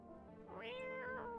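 A cat meows in the horror game No, I'm Not a Human, one drawn-out rising and falling call that is close and clear with no talking over it.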